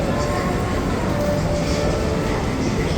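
An MRT metro train running in the tunnel below, a steady, loud, broadband rumble and roar that fills the whole stretch without pause, heard from above ground.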